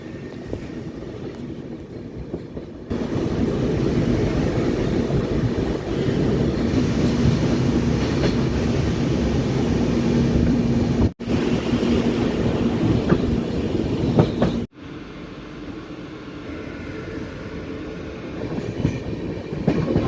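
Inside a general coach of the Darjeeling Mail, the train runs slowly with a steady low rumble and rattling, broken by two brief dropouts and faint clattering.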